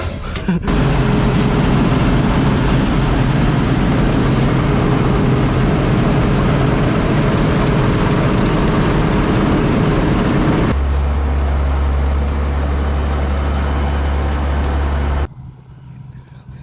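Ursus C360 tractors drive through fields during harvest, a loud, steady low engine drone that holds constant, shifts in tone partway through and then cuts off abruptly near the end.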